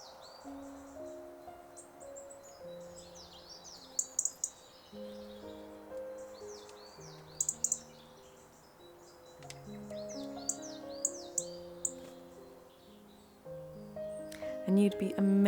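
Small birds chirp and tweet around a homemade backyard feeder: repeated quick bright calls in bursts, fairly close, over soft background music with a low melody throughout.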